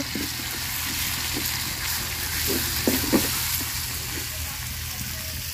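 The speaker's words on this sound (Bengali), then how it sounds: "রসুন বাটাটা সুন্দর করে ভাজা নিব" Garlic paste fries in oil with onion and green chili, giving a continuous close sizzle broken by a few soft scrapes and clicks of stirring.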